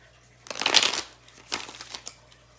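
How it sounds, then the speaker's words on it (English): A deck of tarot cards is shuffled close up: one loud riffling burst followed by two or three shorter, softer flicks, with no talking. "Cards are falling out and I haven't even begun to shuffle"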